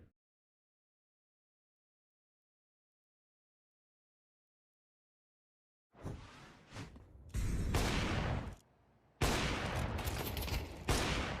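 Counter-Strike gunfire at a competitive match: after a long stretch of silence, loud bursts of rapid shots erupt in several dense clusters with short gaps between them, close and sharp.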